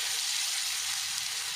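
Prawns frying in oil directly on a tawa, giving a steady, bright, close-up sizzle with no talking.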